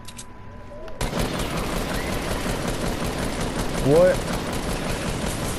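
Rapid sustained gunfire in Fortnite, a dense rattling fusillade that kicks in sharply after a brief quiet moment and holds loud throughout, with a person briefly speaking over it.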